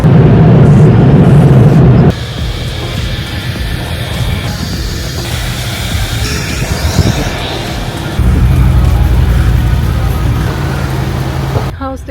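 Automatic car wash machinery runs over a 2016 Mercedes-Benz G550, a loud, continuous roar of spraying water and brushes heard from inside the vehicle, shifting in intensity at several stages, with brief talking from the occupants.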